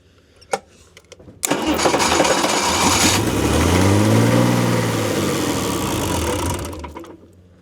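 A diesel boat engine cranks and catches, then runs with a loud, steady throbbing rumble for several seconds before cutting off abruptly.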